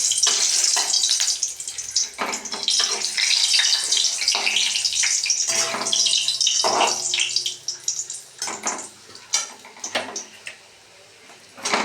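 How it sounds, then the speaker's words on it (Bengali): Frying of a vegetarian festival meal in a pan, a loud continuous hiss and sizzle with bursts and brief pauses, close by, with no talk. "সব শেষে সবটাই ভেজে নিচ্ছি।"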